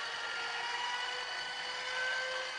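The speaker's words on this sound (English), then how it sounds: "one of the principal elements comes from a device called the inertia starter, used to start the engine on an old airplane" An old airplane's inertia starter spins up with a steady mechanical whir. The whine is bright and sustained, heard alone at an even level throughout.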